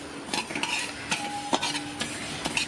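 Moong dal dry-roasting in an uruli for parippu payasam, stirred with a metal spoon: repeated sharp scraping clinks against the pan at an uneven pace over a soft background sizzle.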